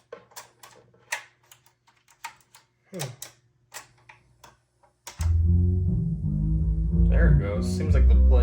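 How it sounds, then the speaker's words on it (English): Akai CS-703D cassette tape deck with a slipping drive belt starts playing music after several seconds of clicks and clunks from handling, then runs loud and steady with a slightly wavering pitch. "I'm guessing that's just the belt starting to slip."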